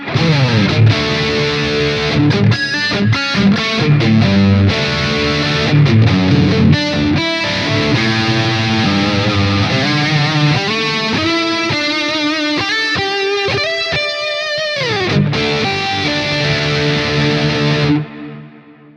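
Heavily distorted electric guitar through a wet-dry-wet amp rig on a Quad Cortex, with thick chorus-like effects, plays chords and quick runs alone, then rings out and fades at the end.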